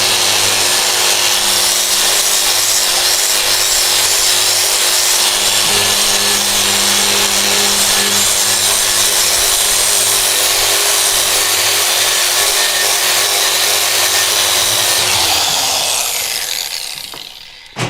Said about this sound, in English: The wire brush takes everything off there.